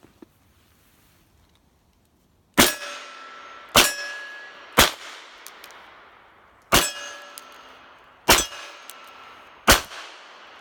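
Six loud, sharp reports from an antique French Lebel M1892 revolver fired double and single action, spaced roughly a second apart after a quiet lead-in, each with a ringing metallic tail and short echo.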